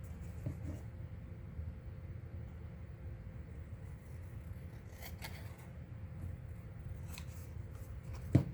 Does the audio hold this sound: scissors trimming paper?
yes